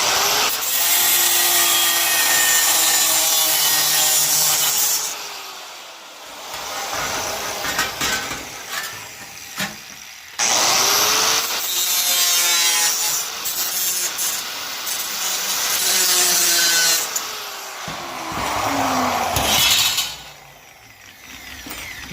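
A small metal patch piece for auto body repair is cut with a power tool in loud, sustained grinding bursts, broken by short pauses as the cut starts and stops.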